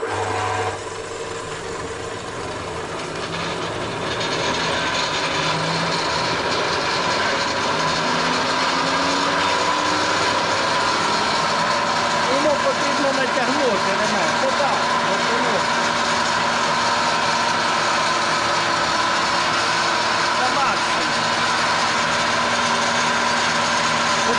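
A homemade thickness planer runs with a steady, loud mechanical drone that builds in the first few seconds and then holds an even whine and rumble, close by and alone.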